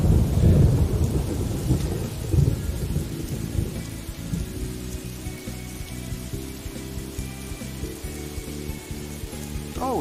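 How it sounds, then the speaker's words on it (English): Rain and rolling thunder in the Morrowind video game, a deep loud rumble at the start fading into steady rain with a low repeating pulse of game ambience, no voices. "Oh, it's raining."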